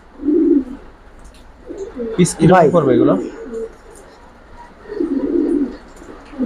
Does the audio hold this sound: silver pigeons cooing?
yes